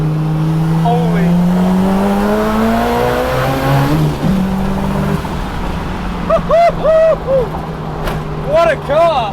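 A Bridgeport-ported big-turbo Mazda RX4 rotary is driven hard, its engine note climbing and falling in long revving sweeps for several seconds, then people talk and exclaim nearby.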